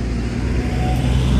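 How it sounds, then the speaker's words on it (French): A truck passing very close on a road, a loud, steady low engine rumble and roar that fills the whole moment without any talk. "Il y a un camion qui me fonce dessus."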